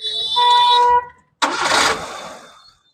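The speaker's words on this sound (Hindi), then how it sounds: "तो गाड़ी को स्टार्ट करवाते, करो गाड़ी को स्टार्ट।" A Maruti Suzuki Eeco 2021 engine cranks and starts after a loud stretch of starter whir, a short pause, then a sharp catch into a steady, fading idle, heard close up.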